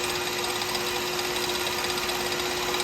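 A wood lathe spins a click pen blank at about 3,088 RPM while it is wet-sanded through the grits, giving a steady, close, continuous motor whine and hum with a constant tone and no talk.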